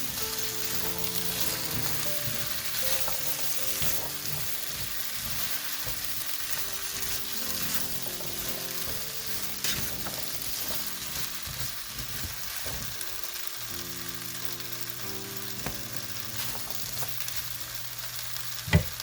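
Seasoned potatoes fry in a skillet with a constant loud sizzle, mixed with scraping stirs and occasional clinks, running steadily with no talking.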